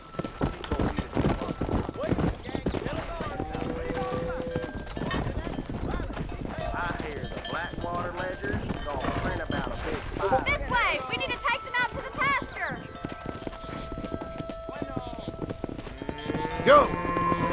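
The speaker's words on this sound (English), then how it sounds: "Herd the cows down the road" A herd of cows walking down a road, with hooves clopping and scattered moos amid outdoor bustle, while several people talk and shout throughout.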